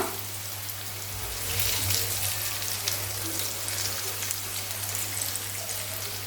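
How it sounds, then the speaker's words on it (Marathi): Colocasia leaf vadi topped with sesame seeds shallow frying in a pan, giving a steady, crackling sizzle like light rain that swells slightly partway through, with no voices. "पण इथे मी शालो फ्राय करते"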